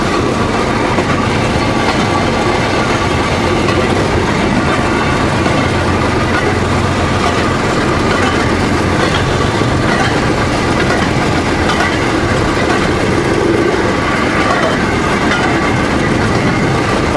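A rail draisine runs along the Alapaevsk narrow-gauge railway, giving off a loud, continuous rumble and rattle of wheels on track. A steady clatter persists throughout with no break.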